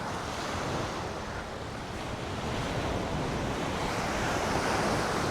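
Ocean surf rolls steadily onto Bangtao Beach in a continuous broadband wash, with wind buffeting the microphone throughout and no voices.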